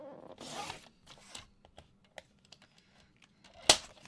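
A paper trimmer slices scrapbook paper for an art journal, a scraping swish of the blade followed by scattered small clicks and taps and one sharp snap near the end, close and clear with no talking.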